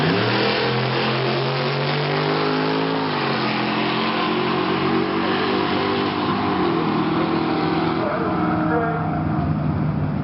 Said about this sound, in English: Next, in the ET2 championship, Riley Gifford takes on Eric Anderson.